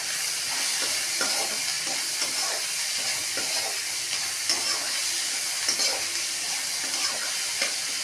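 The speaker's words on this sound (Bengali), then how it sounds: "পেঁয়াজগুলো ভেজে নিলাম।" Onions with a pinch of salt fry in a pan, a constant hissing sizzle with occasional soft stirring scrapes, close and steady, with no talking.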